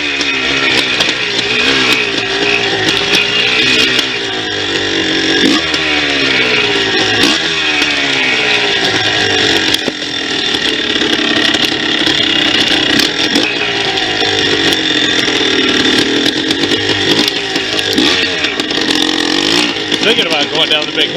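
A 2001 Yamaha Blaster ATV's two-stroke engine runs loud and close, a buzzy ringing drone with repeated rising and falling revs throughout, while a person speaks over it.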